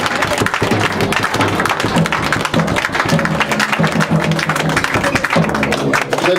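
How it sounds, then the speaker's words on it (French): Congregation applauding and cheering in a church service, dense sustained clapping with crowd voices mixed in and a low musical hum beneath, loud throughout. "Est-ce que tu peux acclamer encore pour Jésus?"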